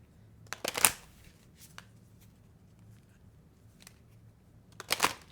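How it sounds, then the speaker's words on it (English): A deck of tarot cards shuffled by hand, heard as two short papery riffling bursts near the start and end, with quiet pauses between. "I am going to shuffle"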